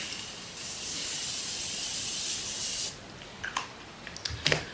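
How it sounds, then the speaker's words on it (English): A Morphe makeup setting spray mists onto a face in one steady hiss lasting about two seconds, close and clear, followed by a few soft handling clicks and taps. "So my first spray I'm gonna use is my Morphe spray."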